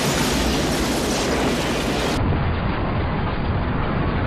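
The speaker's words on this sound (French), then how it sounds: "Voilà, grosse explosion et tout" A big explosion from the Steven Seagal action film Under Siege 2, a dense continuous roaring blast that stays loud for several seconds, with no voices.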